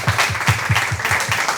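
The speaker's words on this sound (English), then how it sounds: "So let's give them one more round of applause, please." An audience at a Somali cultural center event in Seattle gives guests a round of applause, steady and fairly close, with rhythmic clapping carrying through the whole short stretch.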